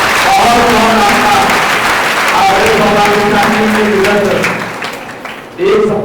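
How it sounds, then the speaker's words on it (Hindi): A gathering at a religious discourse at an ashram in Burhanpur applauds the Maharaj, loud sustained crowd clapping with voices mixed in, easing off near the end before a brief swell. "एक बार जोरदार तालियां महाराज जी के सुंदर बताए हैं।"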